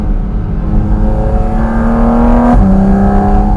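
Porsche Cayman GT4 RS engine revving hard on an alpine mountain pass, a loud close rising howl that climbs in pitch, then drops briefly at a gear change and pulls again.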